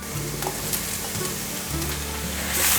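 King oyster mushrooms hiss and sizzle in hot olive oil in a pan with softened carrot and ginger slices, a loud, continuous frying crackle with light stirring scrapes throughout.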